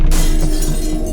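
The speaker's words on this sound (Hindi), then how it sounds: "उससे पहले कुछ कांच के टूटने की आवाज आई थी वहां से।" Glass shattering in a crime drama scene, a loud burst at the start followed by a dense, noisy crash and lingering debris that fades slowly.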